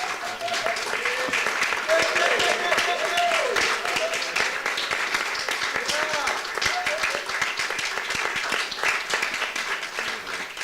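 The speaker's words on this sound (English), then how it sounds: "Stand up, stand up, stand up, stand up and give this applause" A theater audience gives a standing ovation at an event on Black theatre, steady clapping throughout with cheers and voices mixed in over the whole stretch.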